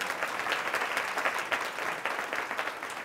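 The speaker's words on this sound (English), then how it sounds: "give yourselves a round of applause" Applause from an audience of Alpha Kappa Alpha members, a steady wash of many hands clapping at a moderate distance, fairly soft and without voices.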